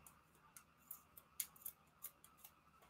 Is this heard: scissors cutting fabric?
yes